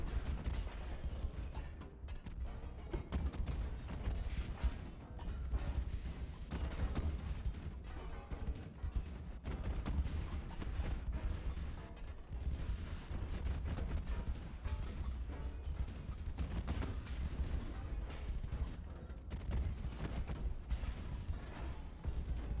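Deep, rumbling booms of 14-inch naval guns in Ultimate Admiral: Dreadnoughts, firing Lyddite shells, repeating steadily over a dense, continuous roar of sea battle, distant and heavy.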